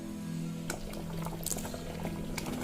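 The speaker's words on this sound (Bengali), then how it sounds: "ফুটতে দেব এবার আবার তালটাকে।" Palm fruit pulp cooked with sugar bubbles in a pot, giving a steady simmer with scattered soft pops and gurgles, heard up close with no talking.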